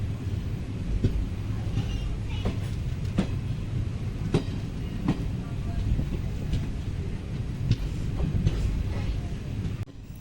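The Mysore Express stands at a station, a continuous low rail rumble broken by sharp metallic clacks and knocks at irregular intervals.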